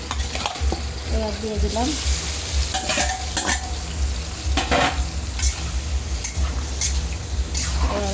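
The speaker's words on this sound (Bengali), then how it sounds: "এবার এটা ভালো করে আমি কষাই নেব" Tripe (bhuri) sizzles and fries in a pan while a spoon stirs and scrapes it, with continuous close frying crackle and intermittent metallic scrapes, and someone speaks briefly.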